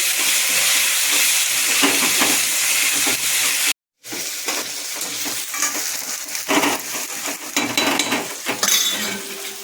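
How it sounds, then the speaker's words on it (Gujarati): Tomatoes, onions and chillies cook in a pan with browned Maggi noodles, giving a steady, fairly loud sizzle and hiss with scraping stirs and utensil clinks. The sound cuts out briefly midway, then resumes with no talking. "હવે નાખીશું અંદર ટામેટા, ડુંગળી અને મરચાં એને આપણે થવા દઈશું"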